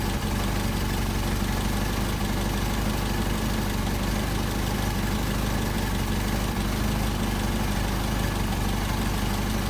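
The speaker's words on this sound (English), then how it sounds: "that's a real nice low idle, but it's probably too low, so we'll bump it up" A Solex moped engine idles low and steady, a continuous close, loud putter with an even rhythm and no voices over it.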